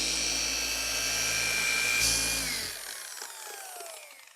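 A polishing machine buffs deep key scratches out of car paint with a steady high-pitched whine that holds, then spins down and fades in pitch after about two and a half seconds, heard up close.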